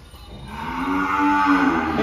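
A mother cow gives one long, loud, close moo that swells from a low start and holds steady to the end.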